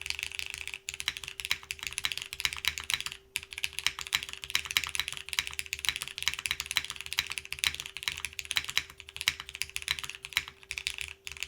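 Steady, rapid typing on a Toro60 keyboard with a polycarbonate case, with continuous close key clacks and small pauses and no talking.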